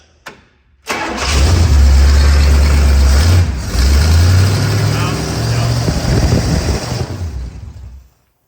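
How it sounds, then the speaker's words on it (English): A 1965 Pontiac Catalina engine cranks and catches after a short click, then runs loud and close with a rough idle and a couple of revs, rising and falling before shutting off. "Start it up and give it some RPM."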